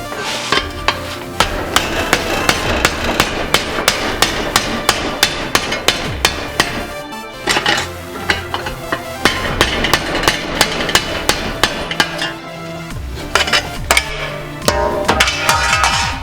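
Repeated hammer blows knock loose welds on a dust shield at the wheel hub of an AE86 during a Wilwood big brake upgrade, with sharp metallic strikes falling in fast, uneven bursts up close with brief pauses between them.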